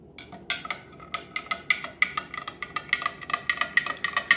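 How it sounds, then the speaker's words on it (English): A spoon stirring drink powder into a German ration drink, a quick run of light clinking taps against a cup, close and fairly quiet, with no voices. "Give that a stir."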